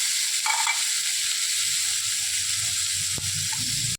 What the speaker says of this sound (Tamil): கொஞ்சம் கொத்தமல்லி போட்டு வதக்கிறேன்